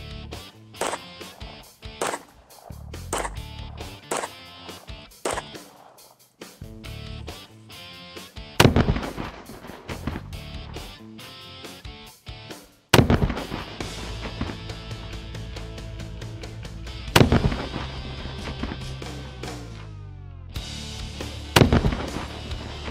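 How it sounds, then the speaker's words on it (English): Handgun shots fired into homemade ballistics gel and scrap metal armor make a long run of sharp, loud reports, some spaced and some in quick clusters, with ringing impacts and no talking. "we're gonna go ahead and torture test this with some handguns"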